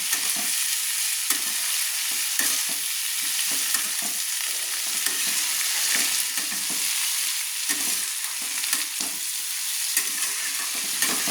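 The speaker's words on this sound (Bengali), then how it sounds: "দিয়ে আমি ভালো করে নেড়ে নিচ্ছি।" Spices and chili powder stirred in hot oil in a frying pan for a potato and yardlong bean curry, a close, continuous sizzle broken by frequent scraping stirs, with no voices.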